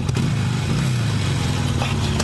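A motorcycle engine runs close by with a steady, low rumble that holds level for the whole stretch and has no clear revving. No one speaks.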